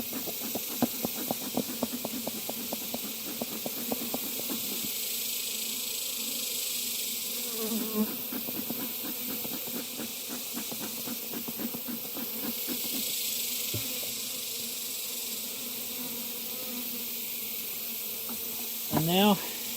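Honey bees drone in a dense, steady buzz during a hive inspection and honey harvest, with a hissing wash over it and brief rhythmic rustling and knocking, apparently as smoke is used to clear them off.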